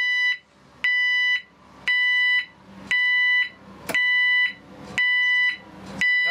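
An e2s warning signal unit set to a reversing alarm sounds loud, steady electronic beeps, about six evenly spaced tones with short gaps between them, close and alone with no talking.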